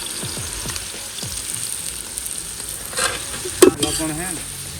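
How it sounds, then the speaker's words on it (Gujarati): Onions frying in tempering oil while being stirred: a moderate, steady sizzle close by, broken by scattered scraping stirs and a sharp clink of the utensil against the pan near the end. "અહીંયા વઘાર ચાલુ છે"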